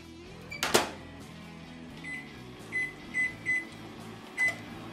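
A microwave oven heating a bowl of grits hums steadily, with a sharp clatter near the start as the door shuts or the dish is set in, followed by several short, evenly spaced beeps.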